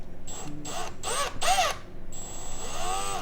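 A cordless drill driving a DeWalt 8mm magnetic nut driver whirs in several quick bursts, its pitch rising and falling, followed by a longer steady run, loud and close.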